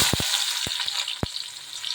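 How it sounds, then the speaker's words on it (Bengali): Chopped onion sizzles loudly in hot oil left over from frying eggs, a bright and close crackle that keeps going. A few quick knocks from a utensil break in near the start and again about a second later. "এখন আমি পেঁয়াজ কুচি দিয়ে দিচ্ছি"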